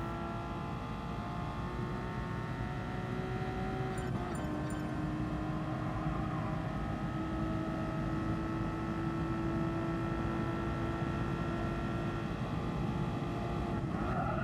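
A race car engine in Gran Turismo Sport drones steadily at high revs, its pitch dipping briefly around a gear change before climbing again, loud and continuous with no talk.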